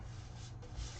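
A brief, soft scraping rub as a scoring tool is drawn across cardstock for a pop-up box card, one short stroke heard close and quiet, with no talk.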